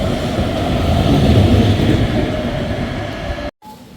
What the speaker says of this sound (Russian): Наш трамвайчик поехал.